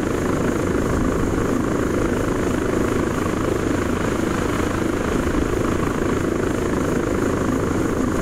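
Aircraft engine in steady flight in the ARMA 3 video game, heard from the cockpit in fog: a loud, continuous broadband roar with rapid rotor-like thrum, unbroken throughout.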